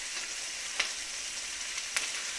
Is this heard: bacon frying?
yes